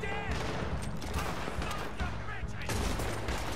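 Gunfire from a Red Dead Redemption 2 shootout, a dense, continuous barrage of overlapping shots under a loud mix of game noise, heard close throughout.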